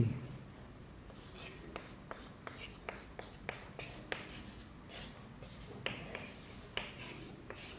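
A teacher writes on a board in a physics classroom, making a run of soft, evenly spaced taps and scratches under quiet, murmured speech.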